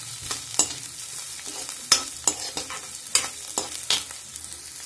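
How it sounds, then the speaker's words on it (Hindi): Onions frying in a pan toward golden brown for an aloo badi curry, with a continuous soft sizzle broken by irregular spatula scrapes and taps, close and moderately quiet. "अब इसमें ऐड करेंगे हम प्याज। प्याज को भी हल्का सा गोल्डन ब्राउन होने तक पकाएंगे।"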